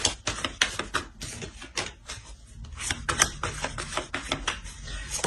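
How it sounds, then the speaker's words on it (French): Tarot cards being drawn and laid down make a run of light crisp taps, flicks and snaps, close and dry, coming in quick irregular clusters with short pauses between them. "Je vais rajouter une carte."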